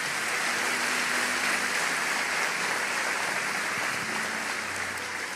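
A church congregation claps together in a dense, steady wash of applause that holds at an even level from start to finish.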